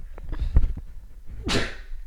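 A single sneeze bursts out sharply and close, preceded by a few soft breathy clicks and sounds, in a quiet indoor conversation setting.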